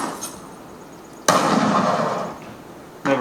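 Shots fired at a clay target on a Laser Shot trap shooting simulator, with one sharp loud crack followed by a decaying rumble, then a second abrupt burst near the end, no talk heard.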